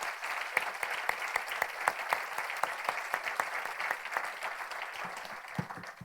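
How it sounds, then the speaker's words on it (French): An audience applauds at an outdoor eco-activities trophy awards ceremony, a steady dense clapping from many hands heard from within the crowd for several seconds. "je pense qu'on peut s'applaudir"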